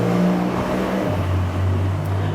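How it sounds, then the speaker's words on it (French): A car drives past on a town street, its engine hum swelling close and loud, then easing off as it moves away. "je laisse la voiture passer"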